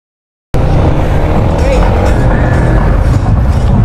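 A Honda Winner X 150 motorcycle on a test ride, its engine a loud, close, continuous drone with wind rumble that starts abruptly after a short silence.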